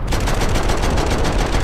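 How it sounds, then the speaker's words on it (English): Rapid automatic gunfire in the shooter video game Max Payne 3, a loud, dense burst of closely spaced shots running without a break for under two seconds. "I was trying to shoot him in the front"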